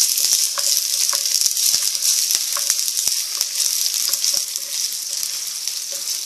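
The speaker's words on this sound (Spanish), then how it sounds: "Cuando nuestro aceite ya esté bien caliente, vamos a agregar la cebolla. Y vamos a dejar sofreír." Onion frying in hot oil while sofrito is prepared for huitlacoche, a loud, steady, close sizzle with crackling pops and occasional soft clicks of a utensil throughout.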